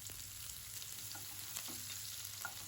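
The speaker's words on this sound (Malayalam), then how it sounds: "ജീരകം പൊട്ടിക്കഴിയുമ്പോൾ ഇഞ്ചിയും പച്ചമുളകും ഇട്ട് കൊടുക്കുക." Ginger and green chillies dropped into hot oil with crackling cumin seeds, cardamom and cloves make a continuous, even sizzle that is faint in level, with a few light spatters. No one speaks.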